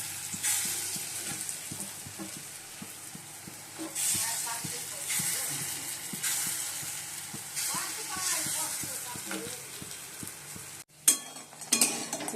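Chana dal fritters frying in hot oil in a kadai, a moderate crackling sizzle with intermittent clatter and stirring, with a brief burst of louder handling near the end.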